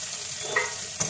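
Onion fries in mustard oil on a raised gas flame, a soft steady sizzle with a couple of brief spoon scrapes, quiet and with no voices.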